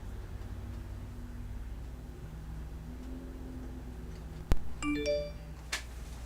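A phone rings with an incoming call, a bright electronic chime of rising tones that cuts in suddenly after a quiet, humming stretch.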